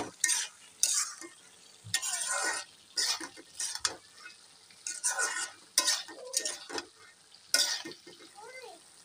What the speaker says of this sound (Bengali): ঢাকনাটা খুলে নেড়ে চেড়ে দেবো।